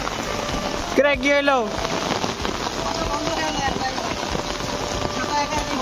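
Heavy downpour pounding surfaces outdoors, a dense, loud and unbroken hiss of rain, with a person briefly speaking near the start.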